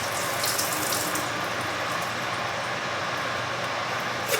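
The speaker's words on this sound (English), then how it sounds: "Y'all know I pour this off of my green beans." Liquid from a can of green beans is poured off into a sink, giving a steady continuous splashing rush of water that stays loud and even throughout, with no voices.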